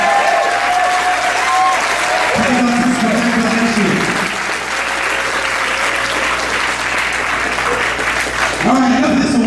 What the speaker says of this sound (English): Frick a round of applause.